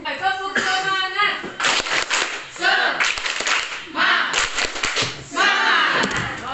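A group claps in quick rhythmic bursts while voices shout and chant together, loud and close, with brief pauses between rounds.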